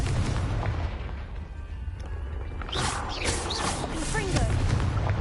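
Confringo fire spell blasts in Hogwarts Legacy, with several booming impacts and crackling bursts over a dense game soundscape while a voice speaks.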